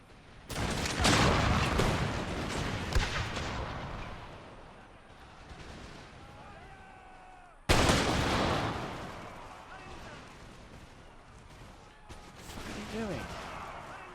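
Cannons fire in an Empire: Total War battle, two loud booming volleys several seconds apart, each followed by rolling rumble and scattered musket crackle.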